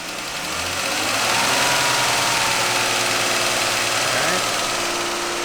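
A Jeep Grand Cherokee 3.6 engine with a noise fault runs close by, steadily idling then revving up with a rising drone and rough mechanical chatter over broadband noise.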